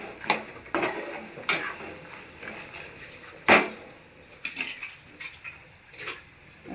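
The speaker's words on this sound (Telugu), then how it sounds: "జీలకర్ర వేసుకున్నాం కదా, ధనియాలు, పల్లీలు, జీలకర్ర, ధనియాలు కొంచెం వేయించుకుందాం" Peanuts, cumin and coriander seeds dry roasting in a pan, with scattered stirring scrapes and clatters of the seeds against metal, one sharp clink partway through, close and moderately quiet.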